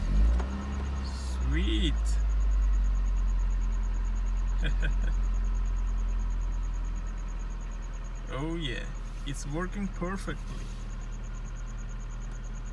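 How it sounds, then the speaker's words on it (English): A cold Toyota Altezza engine starts and settles into a steady idle after a fuel pump replacement, with a low, even hum running throughout while people talk briefly over it. "As you saw, the car is cold and it started right away."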